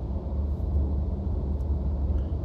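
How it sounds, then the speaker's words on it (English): Distant thunder rolling on a rainy day near an outdoor pond, a steady low rumble with no distinct claps, continuous and fairly soft. "Is that thunder?"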